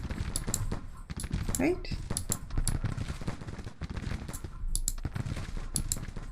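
Bursts of gunfire crackle through a Grand Tactician: The Civil War battle at Perryville, coming in rapid clustered volleys with sharp repeated cracks, while a voice speaks briefly under the din.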